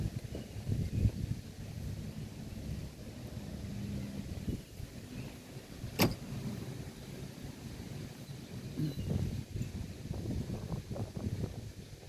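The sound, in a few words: wind blowing outdoors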